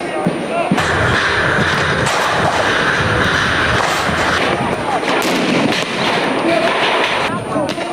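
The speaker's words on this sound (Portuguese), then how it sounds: "Os tiros de borracha, é a Força Nacional jogando bombas." Sharp bangs of police rubber bullets and bombs ring out over a loud, continuous roar of crowd noise and commotion.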